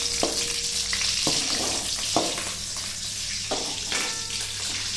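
Chili frying in hot oil in a home kitchen gives a steady close sizzle, with several sharp scrapes and clacks of a ladle stirring the pan at irregular intervals.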